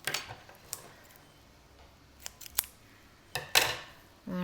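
Scissors snip size 10 crochet cotton thread on a bookmark project, a few quiet sharp clicks spaced apart with a louder pair of cuts near the end, close by in a quiet room.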